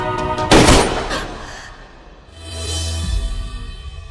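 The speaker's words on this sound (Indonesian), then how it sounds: "Sidat telah lebih dulu menembak kepala raja hingga terjatuh dan tewas." Gunfire in an Indian action film scene: a loud sharp blast and a few quick shots, followed by a reverberant rumble and lingering noise.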